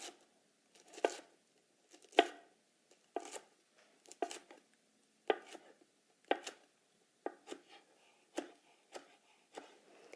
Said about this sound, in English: cutting strips as thin as I can